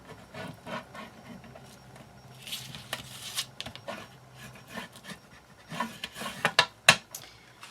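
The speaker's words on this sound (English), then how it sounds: "Alright, burnish this down." Paper being burnished down by hand onto a photo album page, a dry rubbing and rasping that comes in uneven strokes, close and fairly loud, with sharper scrapes toward the end.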